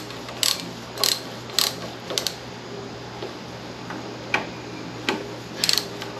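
A ratchet snugs a bolt on a 1936 Austin 7 engine during a rebuild, giving about eight short bursts of crisp clicking, close and fairly loud over a quiet background hum.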